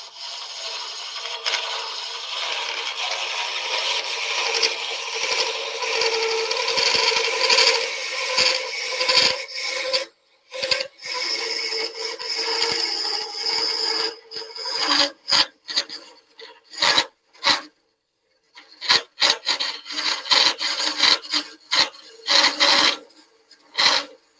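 A wooden hollow form being hollowed out on a lathe, with a continuous rasping, scraping tool cut against spinning wood, broken by brief pauses and short stop-start bursts in the later part.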